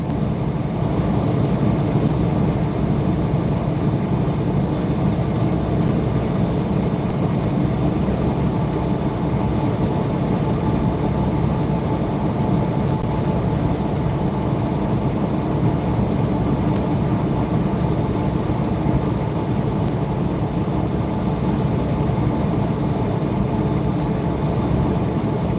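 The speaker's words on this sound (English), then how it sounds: "There goes old big choo-choo train in the desert." A train rolls past in the desert, a steady, loud, continuous rumble with a broad engine-like drone that holds evenly from start to finish.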